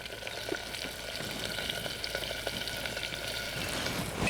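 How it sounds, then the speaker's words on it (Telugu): Green chillies and chopped onions fry in oil in a pressure cooker for chicken pulao, giving a steady, soft sizzle with faint crackles throughout and no talking. "ఈ ఉల్లిపాయలు గోల్డెన్ కలర్ వచ్చే వరకు బాగా వేయించుకోవాలి."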